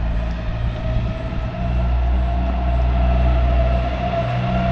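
Street traffic on a Paphos seafront morning, with a truck's heavy low engine rumble close by and steady, plus a brief air-brake hiss and a faint high whine. There is no talk.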